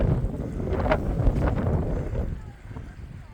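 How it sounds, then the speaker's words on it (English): Cold wind buffeting a microphone while crossing mountains in Yellowstone National Park, Wyoming, a loud low rumbling roar that swells and gusts for a few seconds, then eases off toward the end. "but the wind's getting very cold"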